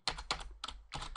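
Computer keyboard keys clattering as code is typed, a few quick bursts of close keystrokes separated by a short pause, crisp and fairly quiet with no talking.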